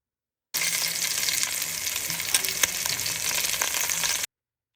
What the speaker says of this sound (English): We're just trying to get a good sear on it